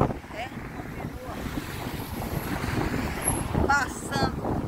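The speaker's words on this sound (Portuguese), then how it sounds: "E tá esse vento." Gusty wind blowing in Recife, Brazil, with microphone buffeting and a steady roar that swells and eases, rising toward the end; faint higher whistles come through near the close.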